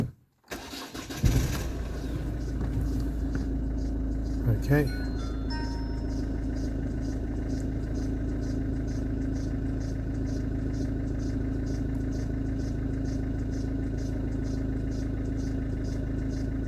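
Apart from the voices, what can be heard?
car engine starting and idling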